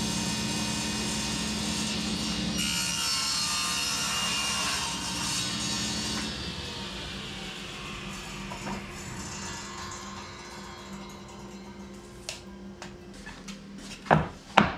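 Wooden boards being cut into workbench drawer fronts: a long, steady saw running at close range, tapering off toward the end, followed by a few sharp knocks and clatters of wood.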